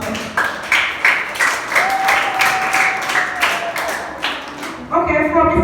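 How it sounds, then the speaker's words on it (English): At a senior high school intra-class debate competition, an audience applauds both teams with bursts of clapping, while a voice speaks over the end. "Let's give both teams a round of applause."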